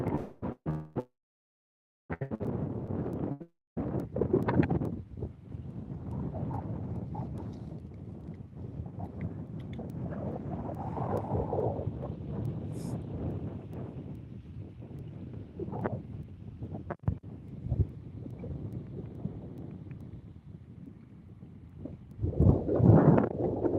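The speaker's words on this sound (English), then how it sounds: "I got all of the wind coming into me here" Gusty wind buffeting a microphone on a golf course, a continuous low rumbling roar that swells and dips, with brief dropouts and a louder burst near the end.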